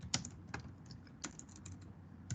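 Code being typed on a computer keyboard for an assembly program, sounding as a few sharp, separated key clicks with short pauses between them, close by and fairly quiet, with no voices.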